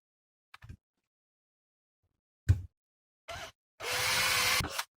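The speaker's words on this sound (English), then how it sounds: "I'm drilling into the wood there" A drill bores through scrap wood packed inside a metal guitar stand: a few short knocks, then a steady, close whirring burst of about a second.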